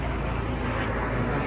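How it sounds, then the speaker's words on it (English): A helicopter flying overhead above a garden makes a steady, loud low rumbling drone that fills the whole stretch without letup. "while the helicopter goes by."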